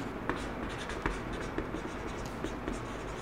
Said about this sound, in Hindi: तो इसको लिख लेते हैं